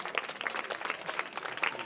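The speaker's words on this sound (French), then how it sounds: "Est-ce qu'on peut applaudir pour lui?" Many people clap for an English teacher at a school-year opening ceremony, a brisk, moderately loud burst of separate sharp claps close together.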